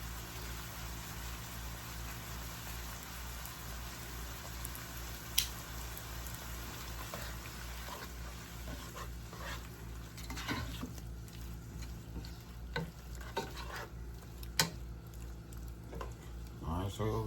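Shrimp cooks in a pan with a low, steady sizzle and a background hum, while occasional clinks and scrapes of utensils sound up close in the latter half.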